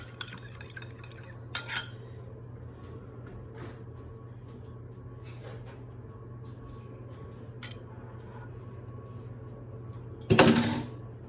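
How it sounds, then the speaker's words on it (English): A fork whisks egg wash in a bowl for pepperoni bread, giving light scattered clinks against a faint steady hum, with sharper clatters near the start and a louder burst of scraping near the end. "I'm just gonna take a fork and mix it up"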